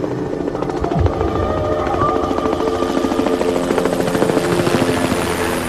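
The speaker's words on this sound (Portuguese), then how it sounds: "ouviu no exterior do hotel o que lhe pareceu ser o ruído de vários helicópteros" Several helicopters flying overhead near a hotel, a loud continuous rotor drone that fills the air and stays steady throughout.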